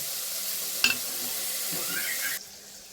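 Food fries under a lid in a covered pan, making a soft, steady sizzle at low level, with a sharp clack near the start and a brief clatter before the sound drops away.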